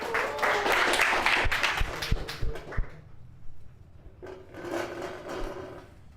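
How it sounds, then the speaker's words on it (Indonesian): Audience applause at a live comedy show in Indonesia, a burst of clapping that thins out with a few sharp thumps, pauses briefly, then returns more softly. "Tepuk tangan untuk Semesta."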